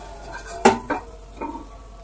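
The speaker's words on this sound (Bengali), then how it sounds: "এবার ঢাকনাটা খুলছি দেখুন কত সুন্দর খুলছে" A pot lid lifts off vegetables simmering for an oats dish, giving one sharp metallic clink followed by a softer scrape and a faint second knock, close by and with no talking.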